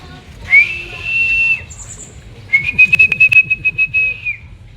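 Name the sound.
racing pigeons arriving and flying in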